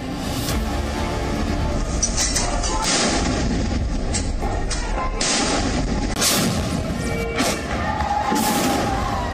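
Heavy Indian-made artillery guns fire a salute at the Red Fort on Independence Day, booming one after another, each deep thud followed by a ringing rumble, loud and close over a noisy outdoor background.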